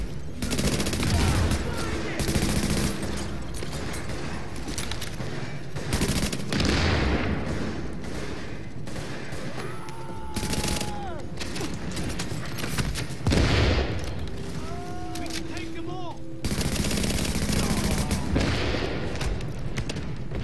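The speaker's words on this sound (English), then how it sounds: "Party's taking heavy fire from the roof." A rooftop gunner in a first-person shooter video game fires heavy, sustained bursts with repeated rapid volleys, loud and close, with brief lulls between rounds and no speech.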